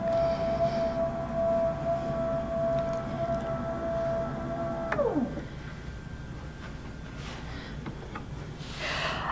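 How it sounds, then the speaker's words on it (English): A motorized lift table on an Amara ST quilting machine lowers with a steady electric motor whine that holds one pitch and then slides down sharply as it stops, followed by quieter room noise and a faint clunk. "I'm just going to push a button and lower it till it's a comfortable height for me."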